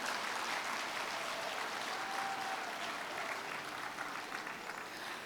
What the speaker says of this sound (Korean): 80회 큰 박수로 맞아주시면 감사하겠습니다